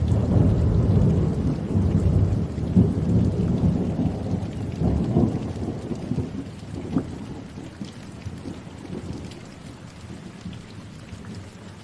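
Steady heavy rain pours throughout, with rolling thunder rumbling beneath it in a dark stormy night setting, no voices, loud and continuous.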